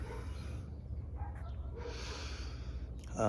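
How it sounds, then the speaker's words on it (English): Morning breath work session: steady, close breathing with snort-like inhales and exhales filling the clip, ending in a louder burst. "About to do my AM breath work."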